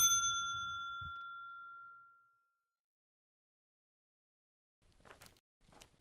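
A reception-desk bell in a video game is struck once, giving a bright, clear ding that rings and slowly fades over about two seconds, followed by silence and a few faint soft knocks.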